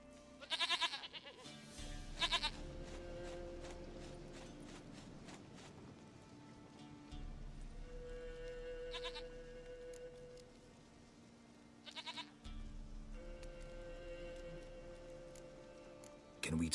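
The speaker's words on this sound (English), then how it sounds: "Goat of mine, dearest, sweetest goat." A goat in The Witcher 3 bleats in a few short, loud cries spaced across a quiet game scene with soft ticking and low tones, a voice speaking in between.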